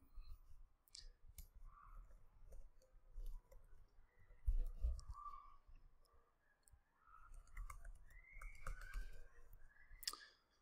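Soft, sparse computer mouse clicks and light keyboard tapping during a Chrome sign-in, faint and close, with quiet gaps between the taps.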